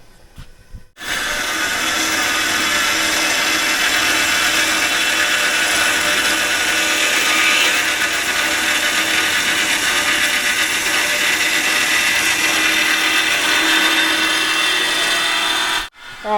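A power saw cuts 3/16-wall steel tubing for an excavator bucket fabrication, with a loud, steady, grinding whine that runs unbroken for about fifteen seconds before cutting off.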